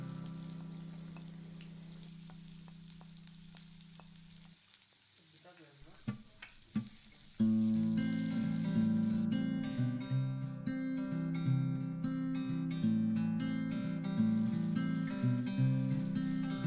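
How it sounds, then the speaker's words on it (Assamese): Onion is dropped into mustard oil with spluttering ajwain in a pan for a kachori filling; a few clatters are followed by a loud, sustained sizzle with stirring, after a quieter stretch of low sizzle at the start. "আজৱাইন অকণমান ফুটোতে ইয়াত পিঁয়াজ দি দিলোঁ"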